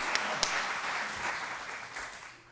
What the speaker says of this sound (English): All right, big round of applause.